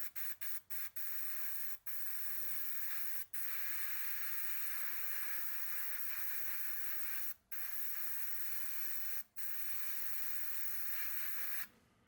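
An airbrush sprays highly diluted paint onto a 1/48 ICM MH-60L DAP Black Hawk model helicopter, with its nozzle cap on, in a steady hiss. Several quick bursts at the start are followed by longer sustained sprays with brief pauses between them.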